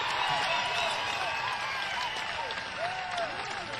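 A concert crowd at a show in Buffalo, 1988, applauds in a steady, dense wash of clapping and cheering that fills the whole stretch.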